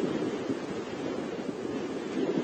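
Steady low rushing wind noise buffeting outdoors on a morning safari drive, continuous and moderately loud with no voices.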